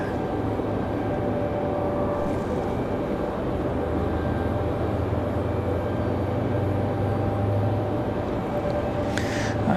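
A Republic Airways jet at Raleigh-Durham airport after a storm, its engines giving a steady, loud roar that holds constant throughout, with no talk over it.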